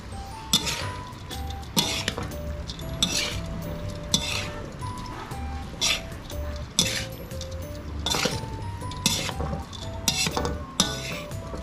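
Utensils scrape and clink against a pan in an irregular rhythm as pork and glass noodles are stirred, with soft squishing and metallic taps throughout.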